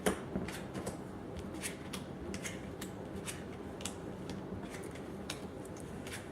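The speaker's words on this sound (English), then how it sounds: "I'm going to flip all the cards" Tarot cards flipped over one after another at close range, a run of soft, quiet snaps and slides with short gaps between them, alone with no talking.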